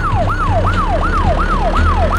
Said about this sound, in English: Do you hear that automatic siren?